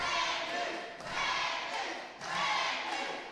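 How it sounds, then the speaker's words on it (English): Loud wrestling show crowd at an NWA Mountain State event cheering and roaring in sustained waves, swelling and dipping twice over a few seconds, with a talking voice mixed in. "Crowd definitely behind Bad News Johnson."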